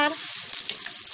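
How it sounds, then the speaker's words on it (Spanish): Garlic and half an onion frying in a pan, a dense continuous sizzle close by with light stirring noises throughout, with no talk over it. "Y ahora también le vamos a colocar la cebolla, la mitad de una cebolla la vamos a dorar."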